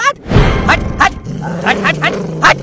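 A dog barks in several short, sharp bursts at close range during playful household commotion, with a steady low hum beneath.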